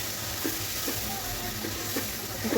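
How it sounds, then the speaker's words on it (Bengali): Mustard and green chilli masala paste frying in oil in a pan while being stirred for a katla fish curry, a steady close sizzle with soft scraping strokes, no voices. "দেওয়ার পরে যে মশলার পেস্টটা তৈরি করে রেখেছিলাম সেটাও ওর মধ্যে দিয়ে দেব, দিয়ে ভালো করে নাড়াচাড়া করব।"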